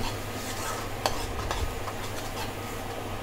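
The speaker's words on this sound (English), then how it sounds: "Saute it while the time like it will dry." Masoor dal curry ingredients are sautéed in a pan with a steady low sizzle and occasional clicks of a spoon scraping and stirring, close and alone.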